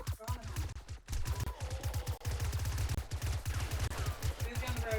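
Rapid gunfire in the video game 7 Days To Die, dense bursts of automatic shots rattling almost without a break, loud and close.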